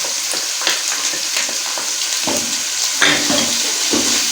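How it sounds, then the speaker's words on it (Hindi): Garlic-ginger paste sizzles in a pan of fried onions and spices for a chickpea curry, a steady hiss broken by several stirring scrapes and clatters, with no talk. "अभी स्टेज पे आके हमने इसमें लहसुन अदरक का पेस्ट शामिल करना है।"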